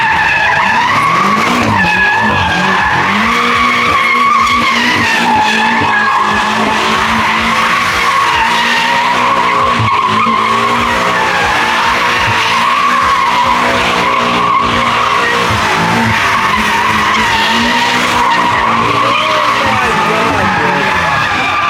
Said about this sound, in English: Bro, there's no way he's drifting this car.